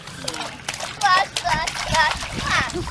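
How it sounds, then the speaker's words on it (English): Children splash and slosh water in a backyard pool, with their excited voices and shrieks over steady splashing close by. "You guys are getting water everywhere."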